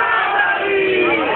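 Massed voices at a Shia majlis gathering shout a religious slogan together, a short, loud, sustained chorus of many people.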